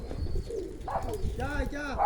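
Racing pigeons coo softly and repeatedly at a pigeon race gathering, close by, with background chatter and other birds around.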